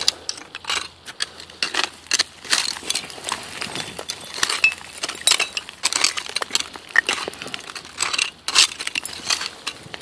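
Thick old glass bottles clink and chink against each other and against debris while being dug from a riverbank, in irregular bursts of close, sharp taps.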